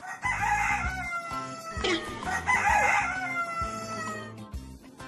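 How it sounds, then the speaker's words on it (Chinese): Roosters crow loudly and repeatedly at close range, long drawn-out calls overlapping with clucking fowl, filling the scene almost continuously with a few brief dips. "怎么叫那么惨？ 那些是公鸡。"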